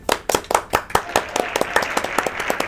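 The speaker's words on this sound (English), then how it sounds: "Round of applause." An audience at a comic book shop in Wilmington, celebrating 35 years, claps in a short burst of applause. The claps start sharp and separate, then blur into a denser spatter close by.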